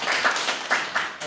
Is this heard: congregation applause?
yes